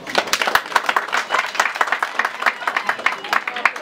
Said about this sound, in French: Ceci vaut l'applaudissement.